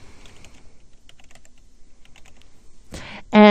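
Keys on a computer keyboard are tapped in a quick run of light, close clicks as a short name is typed, ending in a couple of louder, sharper strokes.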